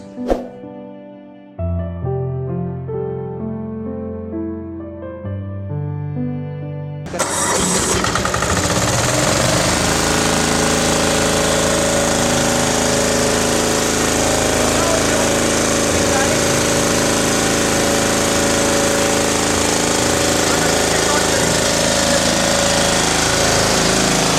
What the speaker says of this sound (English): now we are going to start the genset